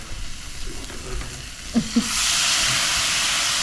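Lemon wedges browning in a hot pan beside seared scallops, a moderate sizzle with a couple of brief clinks of a utensil, then the frying hiss swells louder and steadier near the end.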